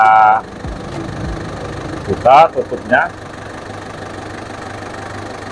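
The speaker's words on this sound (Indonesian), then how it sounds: "Caranya yaitu kita nyalakan mesin terlebih dahulu" A car engine idles steadily in a low hum after starting, with a person speaking over it and a few short clunks and clicks nearby.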